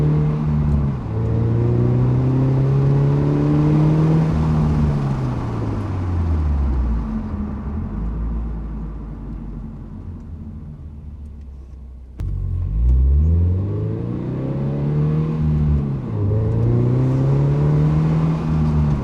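A Toyota GR86 fitted with a Greddy Supreme SP exhaust roars loudly through two hard acceleration pulls, its exhaust note climbing in pitch and dropping at each gear shift, with a deep rumble between the runs.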